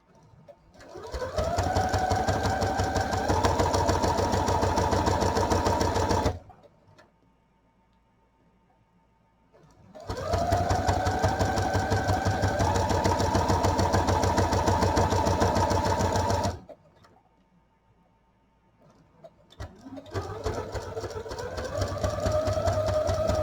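A sewing machine stitches a see-through project pouch in three long, steady motorized runs, each separated by a few seconds of near silence, with a close, even, droning hum during every pass.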